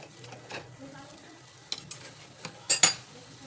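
Food being stirred in a pan after oil and a little ghee go in, soft scraping and gentle sizzle under a quiet background, ending in a few sharp close clinks of the spoon against the pan.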